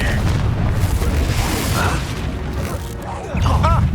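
A Confringo spell explosion in the Hogwarts Legacy video game, a loud booming burst layered over dense game noise and rumble, followed by brief magical effect sounds.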